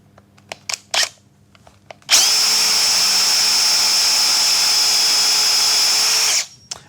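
A power drill bores into a wooden board for about four seconds, a loud steady high whine that stops abruptly, preceded by a few light taps and clicks.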